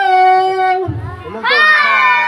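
Crowd of children shouting and cheering together at a child's first birthday and christening party, with loud bursts of voices and a brief lull in the middle.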